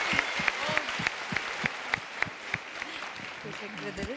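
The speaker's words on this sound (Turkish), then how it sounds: "Alkışlar var." Rhythmic clapping, with a slow steady beat of individual claps over a crowd's scattered applause and some voices talking underneath.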